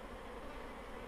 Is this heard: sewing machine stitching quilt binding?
no